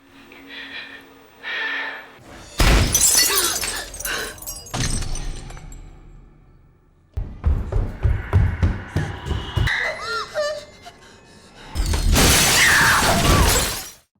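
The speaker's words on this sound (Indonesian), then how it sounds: "Saat kaca itu pecah, Jezabel menemukan satu rekaman lagi" Glass shatters in a horror film. Several loud, sharp crashes of breaking glass burst out between quieter stretches, mixed with gasps and tense breathy sounds.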